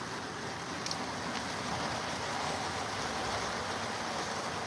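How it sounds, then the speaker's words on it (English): Steady outdoor rain falls as Hurricane Milton approaches, a dense, even hiss without pause and no voices over it. "It doesn't look like much more than just rain right now, right?"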